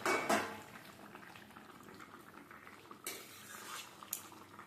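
Fried tilapia pieces dropped into a simmering papaya gravy: a few close clinks and knocks of a utensil against the pot over a low bubbling simmer, with sharp splashy thuds near the start and toward the end.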